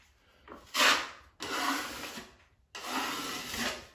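A drywall knife skims joint compound over tape on sheetrock in three scraping strokes, each a close, raspy rub separated by brief pauses.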